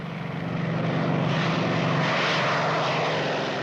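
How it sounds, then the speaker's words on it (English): Piston engines of World War II German fighter planes, the Me-109 and Focke-Wulf 190, a loud, close propeller drone that swells quickly and then holds steady as a heavy, continuous roar. "The German fighter planes, the Me-109 and the Focke-Wulf 190, are known ironically as Jäger, the German word for hunter"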